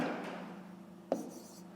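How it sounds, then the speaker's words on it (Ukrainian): Numbers written by hand on paper, a soft continuous scratch of a pen with one sharper tap partway through, close and quiet with no voices. "Давайте я тут напишу"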